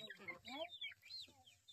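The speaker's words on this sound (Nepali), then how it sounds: "कुखुराले कम त चल्ला पारेको छ यहाँ" Hens and chicks cluck in a farmyard, a run of short, close calls rising and falling over about two seconds, with no voices.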